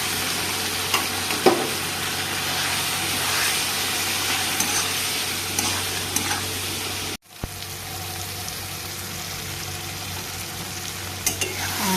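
Chili powder and egg frying in hot oil, a constant close sizzle with scraping stirs throughout and a brief break partway, with no voices.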